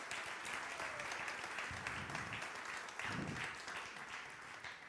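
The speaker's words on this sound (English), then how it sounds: "Please give Reverend Pam another round of applause for that." A Sunday celebration congregation applauds Reverend Pam after her message, a sustained wash of clapping from many people, even in level throughout with no speech over it.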